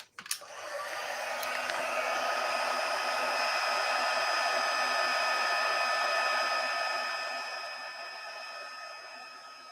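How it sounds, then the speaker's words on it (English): Heat gun blowing steadily over gold embossing powder on a paper craft project, a continuous close airy roar with a faint whine that holds for nearly ten seconds before easing slightly at the end. "Heat gun."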